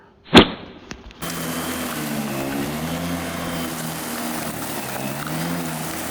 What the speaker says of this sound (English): lawn trimmer.